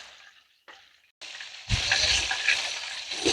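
Croaker fish fries in a pan with a loud, close, continuous sizzle that starts in short bursts and then swells into a steady crackling hiss.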